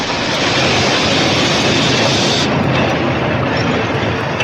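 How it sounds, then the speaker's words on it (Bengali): Loud, continuous rumbling roar of a train arriving at a station close by, steady throughout with a slight change in tone partway. "ট্রেন একটা স্টেশনে এসে থেমেছে।"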